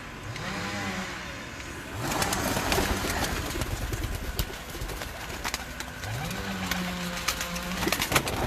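Rooftop pigeons, teddy and red-eyed mixed birds kept in pairs, give a few soft rolling coos separated by pauses, set against a steady outdoor hum of distant traffic.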